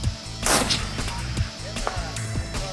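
Rifle shots at steel targets in a hunter-style precision rifle competition: a sharp, loud report followed by several fainter distant cracks and thuds in an outdoor setting.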